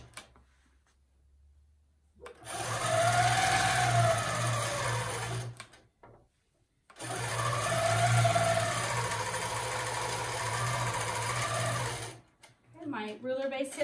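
Longarm quilting machine stitching through layered quilt fabric in two steady runs of several seconds each, separated by a short pause, with a constant motor hum and rapid needle rhythm, then a brief voice near the end.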